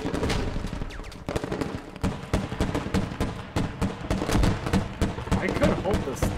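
Dense, continuous battlefield gunfire in a large video game fortress fight, rapid overlapping shots and machine-gun bursts with heavy thuds, loud and relentless, with voices occasionally heard beneath.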